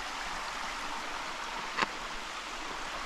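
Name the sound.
creek water flowing out from underground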